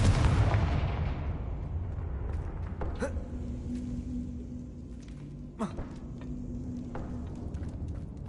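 Confringo spell blast in the Hogwarts Legacy video game: a loud booming explosion opens and slowly rumbles away, followed by a few sharper magical bursts and pops over low ambient tone.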